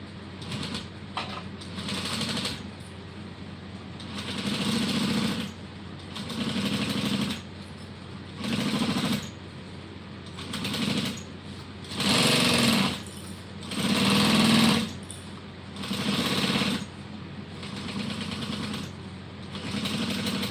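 Sewing machine basting around a slip pocket for a bowler bag, whirring in steady rhythmic bursts of a second or two each, repeating over a constant background hum.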